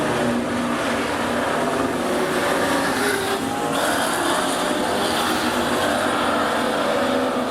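Super stock race cars thunder around Rockhampton Speedway in a steady, unbroken roar of engines that holds loud from start to finish, with a slight swell in the middle as the pack passes.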